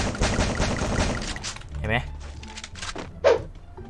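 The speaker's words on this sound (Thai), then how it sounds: "มีลูกซองใหม่นะครับ ตัวนี้เลย ลูกซองที่แบบ ยิงไวแต่ดาเมจไม่ค่อยแรงเท่าไหร่" A new fast-firing, low-damage shotgun in Free Fire fires a quick run of close shots, then a couple of sparse blasts, with someone talking over them.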